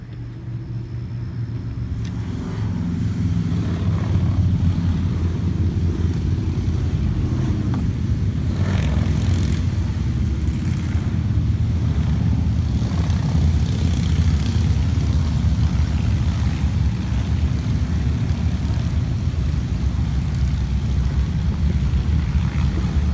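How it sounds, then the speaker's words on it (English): A group of motorcycles rides past outside a garage, a loud, sustained low engine rumble that builds over the first few seconds and then rolls on steadily for about twenty seconds with no voices. "Got some bikes going by, people. Take a look at the bikes. All the motorcycles."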